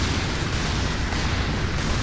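A mech's secondary weapon explodes in the F.E.A.R. 3 video game, heard as a dense, continuous roaring blast of rumbling noise, loud and close, with no break and no talk.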